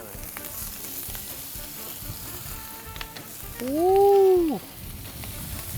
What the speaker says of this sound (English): this is where you get that restaurant quality sear in the cast iron